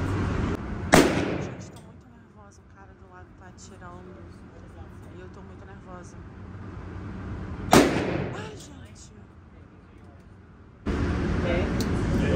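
Gunshots at an indoor shooting range: two sharp, loud bangs several seconds apart, each with a short echoing tail, with quiet talk and range noise between them.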